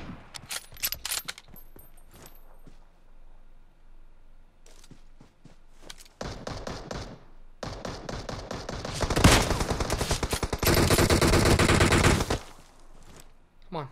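Gunfire in the video game PUBG Mobile: scattered single shots early on, then dense automatic bursts building to sustained loud rattling volleys, with players talking at times.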